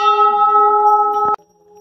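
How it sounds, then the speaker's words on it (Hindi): A Hindu temple bell hanging among many bells near Bhimtal rings with a sustained, bright metallic tone that hums steadily before a sharp clang from a second strike, then a quieter lingering ring; no talking. "और यहाँ पे लोगों ने ये घंटियां लगा रखी है।"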